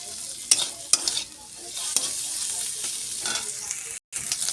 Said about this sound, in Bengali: এবার এটাকে এমনি ভাজা ভাজা করবো।